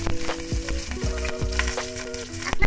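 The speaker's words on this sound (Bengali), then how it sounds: "সেই মাছ ভাজা তেলেতেই একটু কালো জিরে ফোড়ন দিলাম" Nigella seeds tempering in hot oil left over from frying turmeric-and-lemon-rubbed fish, giving a close, steady sizzle and crackle with faint stirring throughout.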